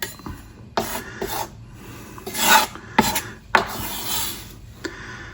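Chopping board being cleaned after mincing parsley: a series of rasping scrapes and wiping rubs against the wooden surface, several short bursts with pauses between, close and moderately loud.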